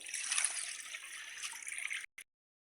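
Washed clothes rinsed in plain water outdoors, with close trickling, sloshing water that runs steadily for about two seconds before cutting off abruptly.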